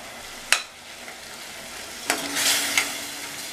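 Soaked chana dal being stirred into mutton in a pan for a mutton kootu, a quiet background fry broken by a couple of sharp spatula knocks and a brief burst of sizzling.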